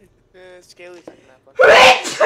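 A single loud, sharp sneeze bursts out close by right after a bit of brief talking.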